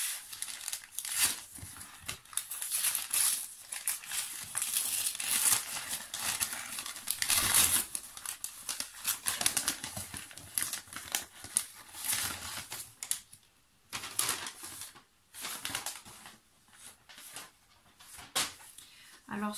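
Advent calendar paper wrappings rustle and crinkle continuously up close, with uneven handling noises and a voice faintly present.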